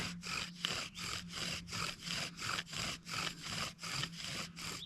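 A wooden spindle rubs back and forth in a bearing block while making a friction fire, giving a steady, rhythmic sawing rasp of about twelve close, even strokes with no talking.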